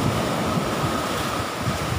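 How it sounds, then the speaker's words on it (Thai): Strong sea waves and gusting wind at Nong Bua beach in Thailand form a steady, close, full-bodied roar of surf and wind noise with no voices. "เห็นว่าคลื่นลมค่อนข้างจะแรงยังแรงอยู่นะครับ"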